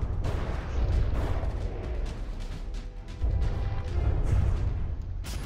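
Heavy artillery volleys slam into warships in a naval battle in the game From the Depths, a dense, continuous roar of overlapping booms and blasts rumbling loudly throughout with repeated sharp impacts.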